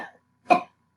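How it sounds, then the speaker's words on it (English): A single short, sharp cough sounds close and alone in a quiet room, done as a controlled cough exercise. "you can really feel the cough on your arms when you're coughing"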